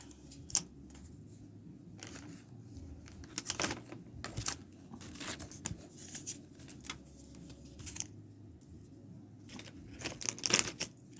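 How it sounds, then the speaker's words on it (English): Scissors snipping through plastic containers being prepared for winter sowing, a series of quick, crisp cuts and crinkles at close range, irregular in rhythm with short pauses, fairly quiet against a low background hum. "you want a good pair of scissors, and you can just go to town"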